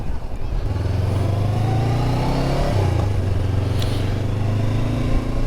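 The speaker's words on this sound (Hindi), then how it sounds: "मोटरसाइकिल चली है, सुकून आया" A Honda CB500X motorcycle engine runs steadily while riding in hot weather, a loud continuous drone with a brief dip in pitch partway through as the revs shift, wind noise underneath.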